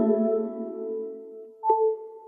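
iOS 11 Engage Power wireless charging alert, a futuristic electronic tone: a sustained, layered synth chord that swells and fades, then a bright, clean chime near the end that rings on alone.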